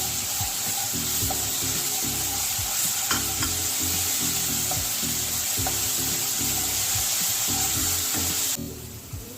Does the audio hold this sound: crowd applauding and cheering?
no